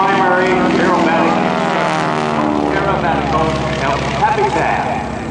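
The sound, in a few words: propeller airplane flying aerobatics at air show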